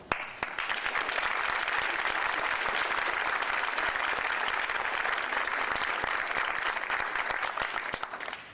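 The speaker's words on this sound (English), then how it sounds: "Please join me in one more round of applause." A sustained round of applause from the crowd at a mayoral inauguration in Knoxville. The clapping is even and continuous, heard at a moderate distance, and swells briefly at the start before holding steady until it fades at the end.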